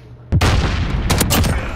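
Gunfire in a gunfight tournament video game: one sharp, loud shot followed by a dense burst of rapid automatic fire that rings on close by, with no talking over it.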